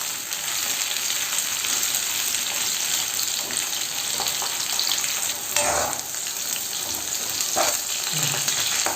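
Brinjal (eggplant) sautés in hot oil, giving a continuous close sizzle with occasional scraping stir strokes breaking through the crackle.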